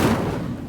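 Incendio fire spell cast in Hogwarts Legacy, a short dense burst of roaring flame that swells at once and then tapers off, close and loud, with no voices.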